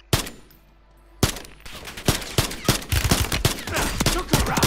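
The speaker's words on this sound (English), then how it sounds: "Oh, I used the mortar strike." Mortar strike killstreak in Call of Duty MW3 Warzone: after a brief lull, a rapid barrage of sharp, loud blasts and gunfire-like cracks follows in quick succession, dense and close, with no talk.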